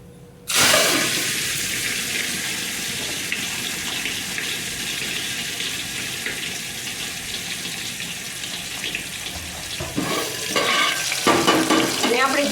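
Tomatoes tossed into hot tempering oil with mustard seeds and asafoetida erupt in a loud sudden sizzle that settles into a steady close hiss, with faint clatter near the end.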